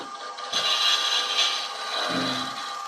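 A skew chisel cuts into a wooden box spinning on a wood lathe with a scraping, hissing rasp. A strong pass starts early, and a second, lower cut comes near the end, heard close with no speech.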